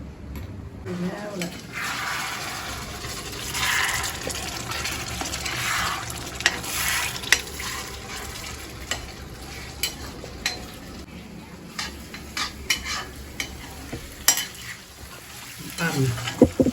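Mutton liver fries in plenty of oil for a thick liver thokku and is stirred now and then. A continuous sizzle carries sharp clinks of a spoon against the pan, and a voice is heard at times.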